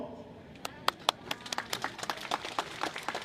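Scattered audience members clap at a memorial and burial ceremony for fallen paratroopers, sparse individual claps building into light applause, faint and somewhat distant, with a voice speaking at the start.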